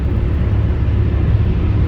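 Cars on a four-lane highway, heard as a steady, loud, low road rumble and tyre drone from inside a moving vehicle.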